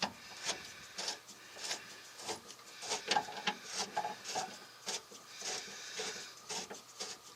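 A wrench cranks down bolts on a Dee Zee rear step being reinstalled on a Ford Ranger, giving a steady run of close, dry ratcheting clicks and ticks with small rubbing scrapes between them.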